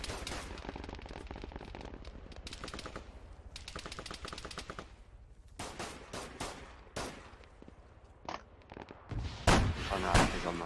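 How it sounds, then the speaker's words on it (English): Close automatic weapon fire in the military shooter Arma 3, with sustained rattling bursts, a brief lull, then sharp separate shots and louder volleys toward the end. "I can hear shooting very close."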